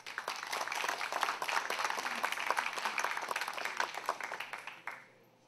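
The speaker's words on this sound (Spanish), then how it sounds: "También lo recibimos con fuertes palmas." Audience at a forum on disaster risk management applauds to welcome a speaker, steady dense clapping for about five seconds that tapers off and fades at the end.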